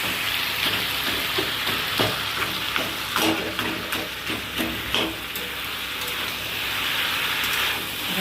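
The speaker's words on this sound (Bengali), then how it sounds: "এখন এটাকে ভালো করে একটু ভাজা করে নিই।" A whole rohu fish head frying in a pan of oil with greens for a chorchori, giving a steady dense sizzle throughout with intermittent crackles and spits, loud and close with no talking.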